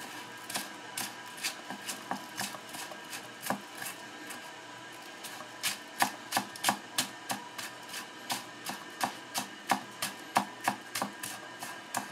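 Scallions chopped by hand with a knife on a board, a long run of crisp, evenly spaced knife taps that gradually speed up into a brisk steady rhythm, close and clear with no talking.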